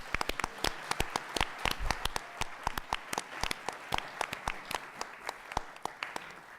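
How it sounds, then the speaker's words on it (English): Audience applause for debate candidates at a ward aldermanic runoff debate, a steady patter of many hands clapping at close-to-moderate distance, continuing evenly for several seconds without voices. "I'd like you to please join me in giving a big round of applause"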